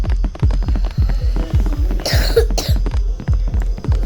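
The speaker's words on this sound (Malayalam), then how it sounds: "പണ്ടാരം ചുമക്കുന്നു" A character in a horror video game coughs once, sharply and close, over a steady pulsing game soundtrack.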